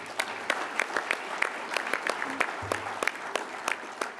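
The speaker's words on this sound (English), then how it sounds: "Let's have another round of applause for that good work." Sparse applause from a conference audience at a labour union gathering, individual claps standing out in an uneven rhythm at moderate volume, with a brief murmur of voices partway through.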